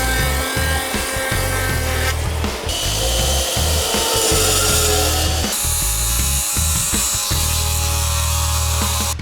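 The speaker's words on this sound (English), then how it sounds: "cut that out, install this corner board." A saw cuts a wooden corner board for garage siding, a loud, close, continuous grinding rasp with a low motor hum underneath and a few changes in pitch as the cut goes on.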